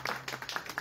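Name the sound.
applause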